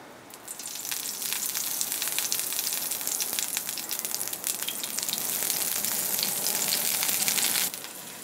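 Olive oil sizzles loudly in a hot frying pan being readied for spaghetti with pesto, a steady close crackle and hiss that rises in and holds for several seconds before cutting off.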